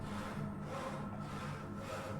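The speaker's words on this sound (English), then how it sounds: "the sound of somebody sawing wood" Steady rhythmic rasping of a saw cutting wood, heard somewhere in The Witcher 3: Wild Hunt, a continuous back-and-forth scrape at even volume with no voices over it.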